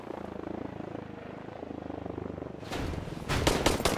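A helicopter in the video game Sunkenland drones steadily with a low rotor throb, then swells louder near the end as sharp crackling bursts break in over it.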